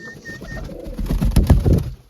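A pigeon coos briefly as it lands, soft and close, over a low rumbling background with some bumps of movement.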